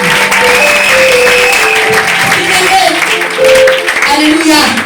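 A church congregation at a Sunday service claps and cheers in praise, a loud continuous wash of applause mixed with voices calling out.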